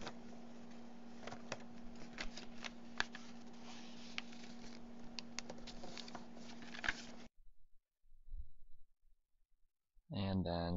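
Paper folding for an origami rose stem box display, with dense crinkling and pattering over the first seven seconds, some sharper creases among them, then near silence and a person talking briefly at the end.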